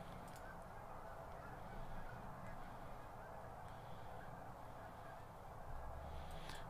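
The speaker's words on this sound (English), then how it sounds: "There's a lot of geese outside, man." Geese honking outdoors, heard faintly and at a distance as scattered calls through a steady hiss of background noise.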